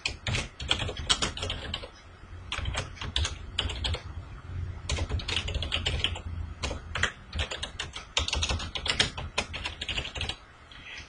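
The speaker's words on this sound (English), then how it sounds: "I'll just record typing my name and address details" Rapid, close tapping on a computer keyboard runs continuously, with irregular bursts of keystrokes and short pauses, as a name and address are typed into a document.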